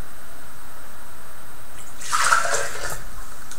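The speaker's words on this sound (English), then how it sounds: "So I'll go ahead and pour that back into the water pitcher here." Water pours from a glass back into a water pitcher in a short, close splash lasting about a second and a half, rising out of steady background hiss.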